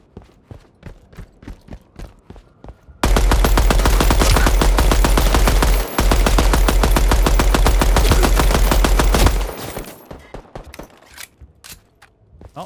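Sustained automatic gunfire in the Deadrop shooter game, a dense rapid burst lasting several seconds with one brief break, loud and close, followed by scattered single shots and footsteps.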